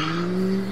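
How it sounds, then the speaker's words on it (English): Car tires squeal in a sustained, loud drift around a corner in the video game APB Reloaded, a steady tonal screech over engine noise lasting under a second. "We fucking drifted around that corner."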